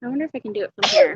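A person says a few words, then lets out a single loud sneeze right after.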